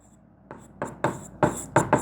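Chalk or marker strokes on a classroom board, six short scratchy taps and scrapes in an irregular rhythm, close and moderately loud against a quiet room.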